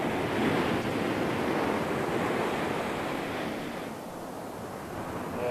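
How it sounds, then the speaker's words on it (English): Gentle sea waves at Cape Wrath in Sutherland, a continuous broad wash of surf with some wind, softening slightly toward the end. "I suppose this must be quite a gentle sea compared to what it can be in"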